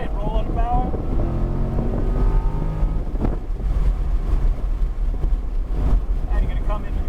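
A 2021 Corvette Z51 engine roars on a track as it accelerates, a loud, steady low drone with rising harmonic tones, wind buffeting throughout and an instructor talking over it.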